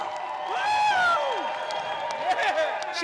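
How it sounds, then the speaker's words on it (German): A crowd of Trump supporters in Georgia cheers and whoops, loud, continuous voices rising and falling together with scattered clapping. "Hier jubeln die Trump-Anhänger in Georgia."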